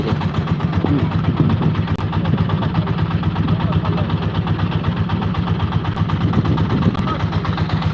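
A steady low engine drone chugs on without pause, a river boat motor on the Brahmaputra running at an even, slow pace throughout.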